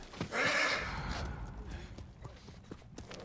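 A horse whinnies briefly at the start in the video game Ghost of Tsushima, followed by soft hoof clops and faint background noise.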